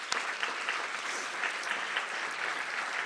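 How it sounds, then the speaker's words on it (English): Audience applause fills an awards gala honoring hospital heroes, a dense, steady wash of many hands clapping at moderate volume with no voices over it. "Let's give a round of applause."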